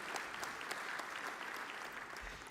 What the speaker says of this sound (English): Let's give another round of applause for the MEC